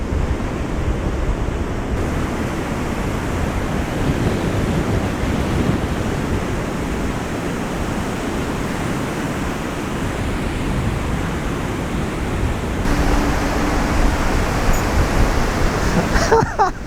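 Stormy sea on the Latvian coast: steady roaring surf and strong wind buffeting the microphone, a continuous broadband rush that swells slightly louder near the end, with no talk.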